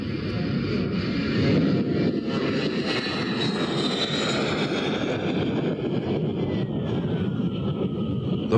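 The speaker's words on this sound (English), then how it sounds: "The flight was the first in a series to check out handling and flight characteristics of the E-8" Boeing 707-based E-8 Joint STARS aircraft in flight, a loud continuous jet engine roar with a shifting whine, steady throughout.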